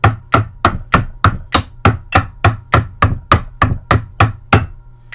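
High school marching tenor drums (quads) playing the up downs pattern, crisp evenly spaced strokes travelling down and back up across the drums in a steady brisk rhythm, loud with no talk.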